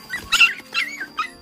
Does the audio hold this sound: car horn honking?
no